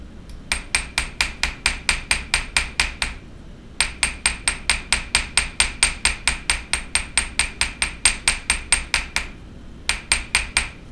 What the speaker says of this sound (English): This is another thing that I love about this goldsmith hammer. It produces a really nice texture.